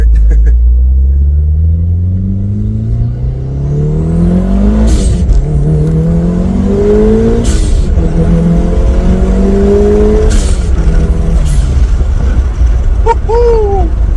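A Mitsubishi Lancer Evolution III revs hard under 27 psi of turbo boost and climbs through gears, loud and close inside the cabin, with sharp shift thumps and a rising turbo whine.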